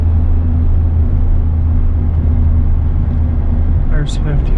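A 24-year-old 8.1-litre gas V8 in a truck towing a heavy load on light throttle, a steady low rumbling drone that runs throughout, with a brief higher noise near the end.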